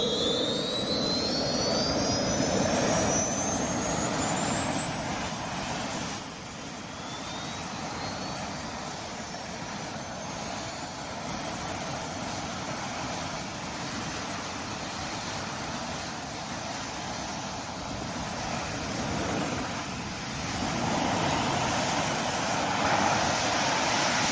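Loud, continuous jet roar from a military jetpack, steady and sustained with rising and falling whine tones overhead, no talking.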